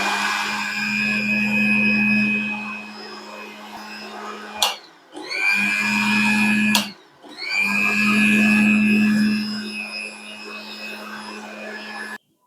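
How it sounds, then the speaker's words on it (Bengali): Electric blender whirring through cold coffee in steady bursts, two short pauses breaking the run, loud and close, with a steady low motor hum throughout. "এখন আমরা সরাসরি ব্লেন্ড করে ফেলবো।"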